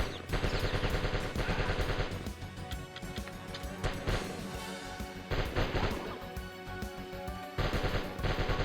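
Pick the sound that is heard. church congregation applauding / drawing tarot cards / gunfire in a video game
gunfire in a video game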